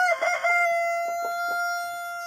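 A rooster, one of a backyard flock of chickens, crows a single loud, close, drawn-out call with a tonal ring that fades slowly, broken by a few soft clucks and rustles.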